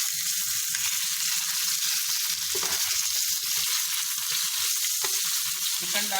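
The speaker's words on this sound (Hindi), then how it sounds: "चिकन डाला, लाइट फ्राई किया" Steady, close sizzling of chicken frying in hot oil with garlic, with occasional soft clinks of a utensil stirring the pan.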